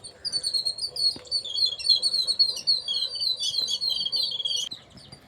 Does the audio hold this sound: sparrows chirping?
yes